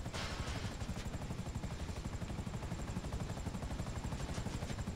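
A helicopter in the video game GTA V makes a loud, close, steady rotor chop, a fast, even pulsing beat that stays constant throughout with no voices.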